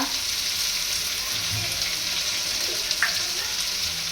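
Ground cumin, other spice powders and crushed ginger-garlic fry in a pan with a splash of water, giving an even, steady close hiss and sizzle with a faint clink near the end.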